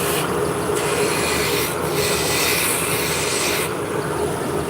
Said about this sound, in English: We're going to be using a skew.